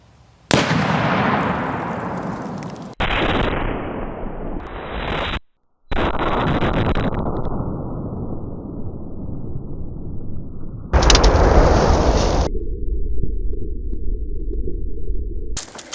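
Explosives blowing up a dozen Equestria Girls dolls outdoors: a loud blast followed by roaring, rumbling noise with abrupt cuts and another burst near the end, no voices.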